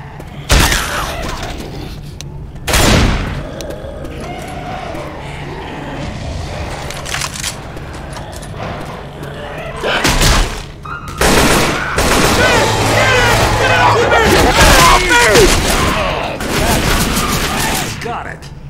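Gunfire in Left 4 Dead 2 on the No Mercy campaign: repeated loud bursts and volleys of shots sound throughout, with dense sustained firing in the second half and talk mixed in.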